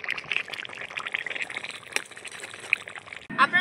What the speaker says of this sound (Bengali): সেই সর্ষে বাটাটাই আমি দিয়ে দিচ্ছি